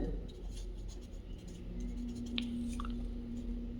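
Pen or pencil scratches steadily across paper while a trigonometry problem is worked out, a soft, close, continuous scraping with a low hum beneath it and a faint voice in the background.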